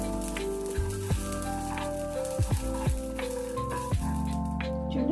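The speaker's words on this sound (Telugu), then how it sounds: "ఇవి కొంచెం కలర్ వచ్చే వరకు వేయించుకోవాలి పచ్చిమిర్చిని కూడా" Green chillies, slit down the middle, sizzling in hot oil in a pan for peanut chutney, a steady close frying crackle with occasional clinks and stirring knocks, no talk.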